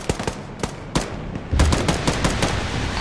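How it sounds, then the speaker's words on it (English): Gunfire in the ARMA 3 infantry game, with sharp single shots early, then rapid close machine-gun bursts that are loud and dense in the second half. "I am getting shot at from close west."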